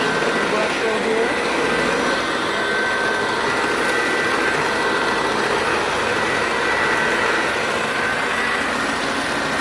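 A Eureka Sanitaire commercial upright vacuum runs with its brush roll spinning, a steady, loud, continuous whirring drone that holds evenly without pause throughout.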